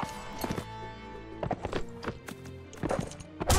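Galloping hooves clip-clop in a fast, steady rhythm in the game Mount and Blade Warband, with a horse whinnying over the charge; loud and close with no talking.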